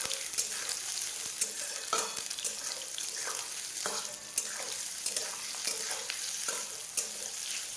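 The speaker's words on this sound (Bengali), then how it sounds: "পেঁয়াজটা বাদামি রং হওয়া পর্যন্ত ভাজবো" Two medium onions, finely chopped, fry in a pan while being stirred, with a constant crackling sizzle and regular scraping strokes of a spatula that recur every second or so. No talking.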